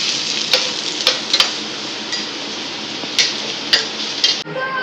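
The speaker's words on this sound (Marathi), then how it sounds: "अच्छा, मामा फ्राय करता." Chicken fries in a pan with a steady, close hiss of sizzling oil, broken by a few sharp clicks and taps from stirring.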